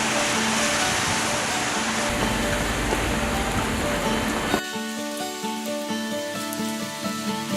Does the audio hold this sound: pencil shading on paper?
no